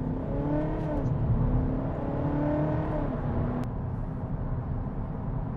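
Volkswagen Passat 2.0 bi-turbo with an upgraded turbo and remap pulling hard on an acceleration run, engine droning and rising steadily from inside the car, sustained and fairly loud with no talking.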